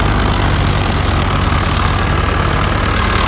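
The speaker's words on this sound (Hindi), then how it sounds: "मोटरसाइकिल आ गया" A motorcycle engine idles nearby, a loud, steady low rumble with an even pulsing thrum that holds without change throughout, no voices over it.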